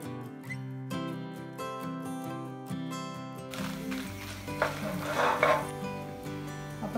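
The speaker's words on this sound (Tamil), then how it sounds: "முதல்ல மிளகாய் மட்டும் கொஞ்சம் வதக்கி எடுத்துக்கோங்க" Dried red chillies being stirred in a pan for Chettinad chutney: scraping and clattering of a spoon against the pan starts midway and continues close by, beneath louder background music.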